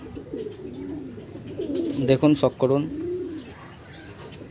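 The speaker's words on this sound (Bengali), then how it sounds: "এটা আর একটা কালো চোখের পায়রা" A black-eyed Andhra pigeon gives a short run of throaty, pulsing coos near the middle, close and clear under soft background noise, with people talking around it.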